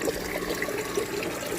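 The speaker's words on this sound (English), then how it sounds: "And then our water is flowing very nicely." Water trickles steadily through a homemade hydroponic vertical garden filled with clay pellets, a soft continuous flow and splash, close and even in level with no voices.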